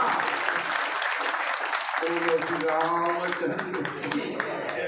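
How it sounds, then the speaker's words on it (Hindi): Crowd clapping at a Bhagwat Katha religious discourse in Agra, a steady burst of applause with voices and a sung or sustained tonal line rising beneath it partway through. "तो एक में थोड़ा सा आपकी तालियों की गड़गड़ाहट होनी चाहिए।"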